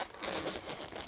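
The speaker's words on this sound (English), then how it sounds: "I'm going to snip the end and let out the air" Air escaping from a snipped end of a twisting balloon, a brief soft rushing hiss with a slight crinkly texture, close and quiet.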